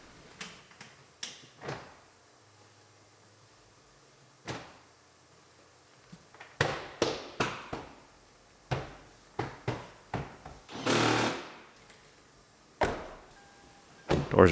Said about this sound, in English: And put our door panel on.